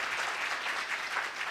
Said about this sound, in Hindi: जोरदार तालियां बजाए खुदा के जलाल के लिए।